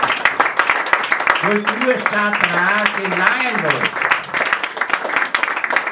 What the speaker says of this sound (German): Applaus für Andreas Nastl.